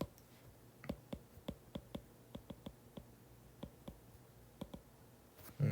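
Typing on a computer keyboard in a quiet room: a steady run of sharp, close clicks at an irregular pace, with a louder clatter at the very end and no talking.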